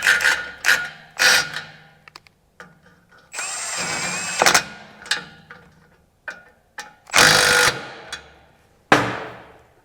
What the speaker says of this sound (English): I'm just double nutting these and then backing them out.